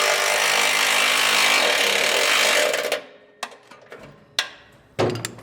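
Bolt on a rock slider side step being tightened on a 2015-on Toyota Hilux, heard as a loud sustained power-tool whir that stops, followed by several short sharp metallic clicks and knocks.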